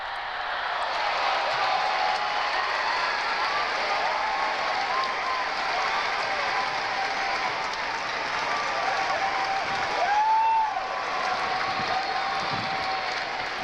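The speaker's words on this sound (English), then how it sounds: "And with that effort, the crowd goes bananas." A crowd at the DARPA Robotics Challenge final cheering and applauding steadily as a robot climbs steps, a dense even roar of clapping and shouts lasting throughout, with a faint voice briefly rising near the end.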